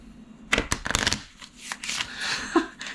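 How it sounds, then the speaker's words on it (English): A quick riffle shuffle of tarot cards, a rapid flutter of flicking edges followed by a softer bridging rustle, close and fairly loud. "Let's riffle shuffle it a little bit."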